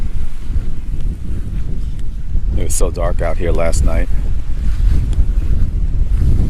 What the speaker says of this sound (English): You can listen to the waves.